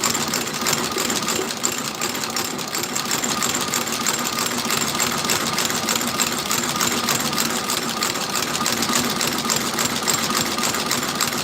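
An industrial sewing machine stitching new soles onto boots: a loud, continuous, rapid mechanical chatter that runs evenly throughout, close by and with no talking.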